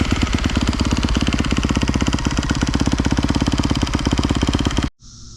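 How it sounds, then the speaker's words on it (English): A 2021 Kawasaki KX250 dirt bike engine idles while warming up before an oil change, a loud, steady rapid pulsing close by for about five seconds before it cuts off abruptly. "We're gonna start by warming up our bike, not for very long, maybe 30 seconds"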